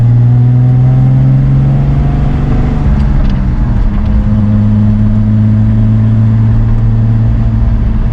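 A car engine drones steadily at highway speed, a loud, close, continuous hum with tyre and road noise that holds level for the whole stretch, without speech.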